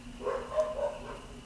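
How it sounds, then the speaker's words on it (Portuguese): Dogs nearby bark in a short, fairly loud run of yaps and woofs against a steady background hum. "desculpa os latidos dos cachorros, porque esses cachorros daqui eu não sei o que tá acontecendo"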